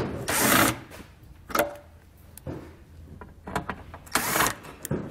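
A T25 Torx driver backs out bolts under a vehicle's rear fascia, several short bursts of whirring with pauses and faint clicks between them.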